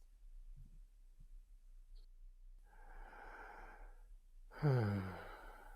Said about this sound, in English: full deep breath in and out of the mouth